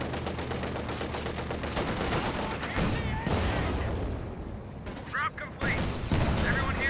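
Bursts of gunfire crackle amid battle noise in Company of Heroes 2, rapid M1919 machine-gun rattles and booms overlapping, with a voice talking over the action.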